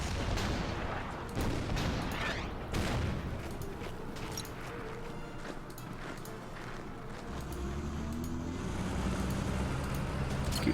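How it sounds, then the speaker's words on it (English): Artillery barrage in the wartime strategy game Order of Battle, a run of deep booming blasts at irregular intervals over a steady rumbling background, loud and continuous for the whole stretch. "Fire the artillery down here."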